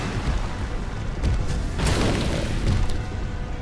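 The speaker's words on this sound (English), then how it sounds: "I know they're just stupid little things launched from catapults and they're not actually meteors" In the Dark Souls 2 video game, fiery projectiles launched from catapults slam down like meteors, producing repeated heavy booming crashes and rumbling impacts over a constant dense wash of game noise.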